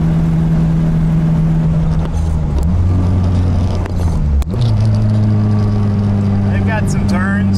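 A Honda K24-powered Nissan sedan drones steadily from inside the cabin on twisty Florida back roads. The engine note drops and shifts at a few points as the car changes gears and speed.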